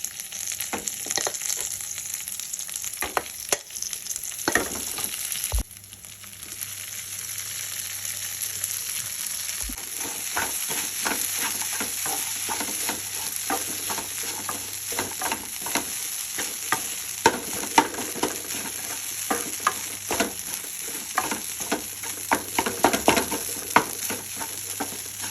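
Soaked flattened rice (avalakki) is stirred into a sizzling tempering of chillies, curry leaves and coriander, with a continuous close frying hiss and repeated spoon scrapes and clinks against the pan that come more often later on.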